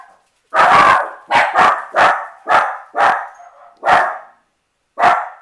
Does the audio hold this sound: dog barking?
yes